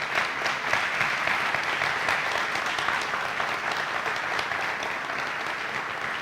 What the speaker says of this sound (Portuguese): essa família quer dar a você uma forte e calorosa salva de palmas